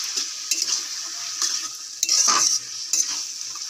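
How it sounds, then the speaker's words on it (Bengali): Pre-boiled chickpeas being stirred in a cooking pan, with a light background sizzle broken by repeated scraping strokes and a longer, louder scrape midway, heard up close with no voices. "তো এগুলো দিয়ে ভালো করে নেড়ে দিই"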